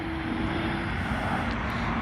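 A military airplane coming in to land roars overhead as a loud, continuous, broadband engine drone that fills the whole moment without letting up.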